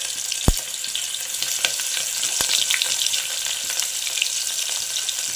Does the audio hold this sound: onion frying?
yes